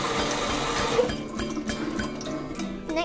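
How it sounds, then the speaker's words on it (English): Cold tap water running over sushi rice in a sieve, a steady splashing rush with small drips and clinks, close by. "Then rinse it twice in cold water."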